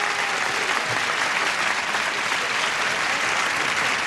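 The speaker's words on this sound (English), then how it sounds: "Would you give them a little polite applause, please?" Polite applause from a game show studio audience, steady and dense clapping filling the room from start to finish at an even level.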